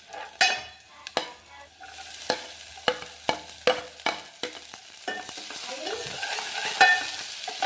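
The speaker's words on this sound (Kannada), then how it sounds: "ಮೆಂತ್ಯ ಸೊಪ್ಪನ್ನ ಚಿಕ್ಕದಾಗಿ ಕಟ್ ಮಾಡಿ ಇಟ್ಕೊಂಡಿದ್ದೀನಿ ಇದನ್ನು ಎಣ್ಣೆಲಿ ಫ್ರೈ ಮಾಡಬೇಕು ಚೆನ್ನಾಗಿ" Finely chopped fenugreek leaves fried in oil and stirred, sharp spatula knocks and scrapes against the pan repeating over a soft sizzle, close with no talk.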